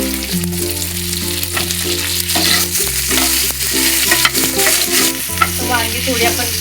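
Eggplant pieces fry with asafoetida in a pan for a traditional village-style bharit, a steady loud sizzle running throughout with stirring scrapes and clatters on top, no voices.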